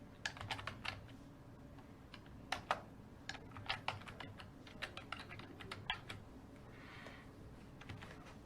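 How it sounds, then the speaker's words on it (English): A name being typed on a computer keyboard, with a run of sharp, irregular keystroke clicks close up over a quiet room hum, including a few louder key presses. "and type Sam Carpenter."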